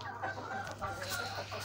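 A pet Aseel rooster gives soft, brief clucks at close range, faint over a low steady hum in the background.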